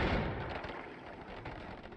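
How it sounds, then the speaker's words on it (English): A gunpowder explosion goes off in the video game Noita, a loud blast at the start that fades into a rolling, crackling rumble with scattered pops, heard alone. "Some kind of gunpowder explosion going off."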